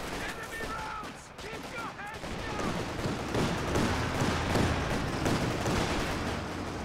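MG34 machine gun bursts in Company of Heroes 2 battle, rattling fire and distant booms that build into a sustained mix of rapid shots, with a voice talking briefly early on.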